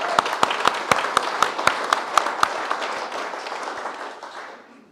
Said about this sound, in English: I suppose just another big round of applause for Brían for all his hard work and dedication to make this event happen this evening.